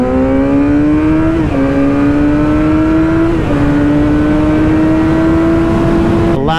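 A Yamaha R6 600cc sport bike engine screams at high revs, a loud, close, sustained whine climbing in pitch across three gear pulls with brief dips at each shift, no speech over it.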